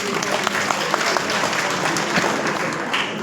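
A burst of applause from a crowd, steady clapping filling the room for a few seconds.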